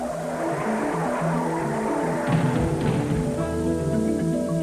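Mario Andretti's race car in the 1986 Indy 500 time trials, with engine roar and screeching tires during a crash, loud and continuous with rising squeal near the end and no voices.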